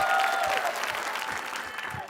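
Crowd at an Indonesian Independence Day contest applauding a contestant, sustained clapping that tapers slightly, with a few voices and cheers mixed in.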